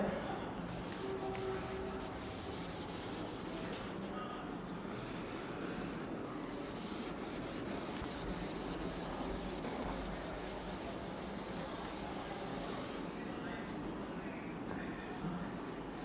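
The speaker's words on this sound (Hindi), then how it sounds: "नीचे वाली हम डिफिनेशन रब कर रहे हैं।" Writing being rubbed off a board during a physics lecture, a continuous scratchy rubbing that persists for around sixteen seconds, close and moderately loud.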